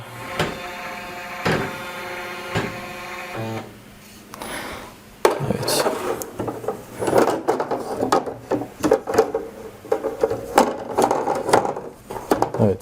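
A Pfaff Creative 1.5 embroidery machine positions its hoop, with mechanical whirring and rhythmic motor steps, followed by a run of irregular clicks, clacks and knocks, with no talking.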